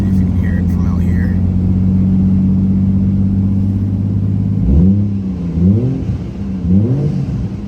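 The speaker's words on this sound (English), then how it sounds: "I will give it a couple blips on the throttle here." A 1998 Toyota Chaser JZX100 with a 1JZ-GTE turbo engine idles deeply, then takes a few sharp throttle blips that rise and fall, loud and bassy from nearby.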